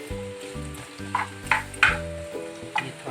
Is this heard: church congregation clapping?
no